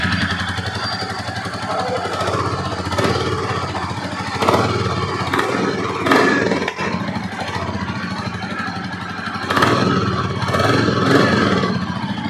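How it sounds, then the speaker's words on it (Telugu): A new 2023 Royal Enfield Bullet 350 cc single-cylinder engine idles close by, its loud, even thumping beat running steadily with slight swells in volume. "సో విన్నారు కదా బీట్, అది మన న్యూ మోడల్ బుల్లెట్ 350 cc."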